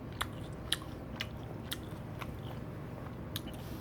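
Someone chews barbecue with green onion and rice close to the mic, making quiet, irregular crunchy bites over a soft low background.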